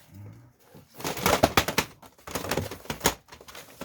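Plastic VHS tape cases clack and rattle against each other in a quick, irregular flurry of hard knocks as they are shuffled, close by, with no talking.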